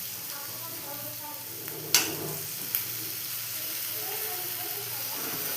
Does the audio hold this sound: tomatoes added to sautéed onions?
yes